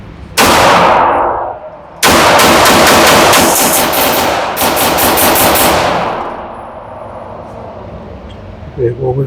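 Rapid gunfire at full speed from a rifle fitted with a Kustomworx Vulcan trigger at an outdoor range: a short burst, a pause, then a longer run of sharp, closely spaced shots, very loud and near, before the reports fade into quiet.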